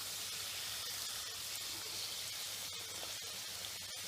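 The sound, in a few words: gujiyas frying in oil over medium flame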